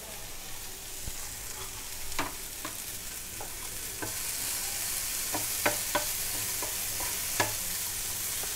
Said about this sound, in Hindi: इसको 10 मिनट तक आप इसी तरह से भूनते रहिए ताकि ये नरम हो जाए